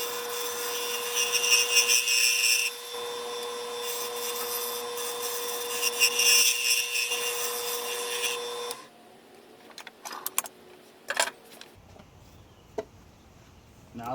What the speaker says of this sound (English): A good sharp carbide makes turning with a lathe a pure pleasure.